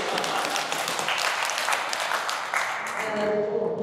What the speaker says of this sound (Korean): 한번 박수 한번 더 쳐주세요.